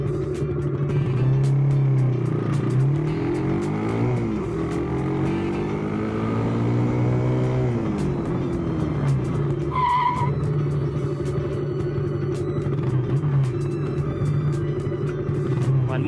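A 2021 Suzuki Raider FI motorcycle runs with a loud engine rumble as the rear brake bites, giving a short skidding scrape partway through before the engine note settles again.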